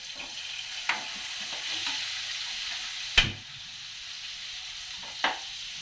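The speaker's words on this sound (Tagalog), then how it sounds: "magigisa na tayo ng sibuyas" Onions being sautéed in a pan for a Filipino mung bean dish with bitter gourd, a steady close sizzle of frying with a few sharp utensil clacks against the pan.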